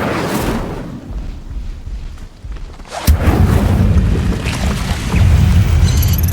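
Incendio fire spell cast in Hogwarts Legacy, a loud roaring burst that surges in abruptly and sustains as a dense, rumbling blaze over continuing game noise.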